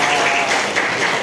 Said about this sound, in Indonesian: tepuk tangan buat anak Tasya.